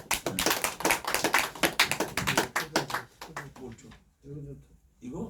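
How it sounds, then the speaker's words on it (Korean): A church congregation at a worship service claps hands in a quick, loud rhythm for about three seconds, then the clapping stops and a voice takes over. "박수 쳐주시고."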